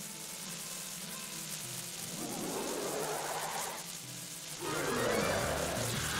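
Steady hissing rain from the video game Majora's Mask fills the scene, a constant broadband wash with game sounds swelling and fading over it.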